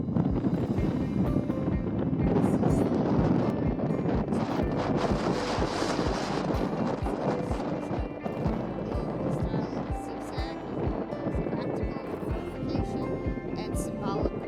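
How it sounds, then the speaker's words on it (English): Heavy wind buffets the microphone in a steady low roar, with a person talking throughout over the rumbling gusts, outdoors in Egypt. "It's very windy."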